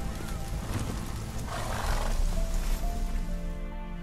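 Roach, Geralt's horse in The Witcher 3, gives a loud, close whinny over dense background noise, with a rough, roaring quality.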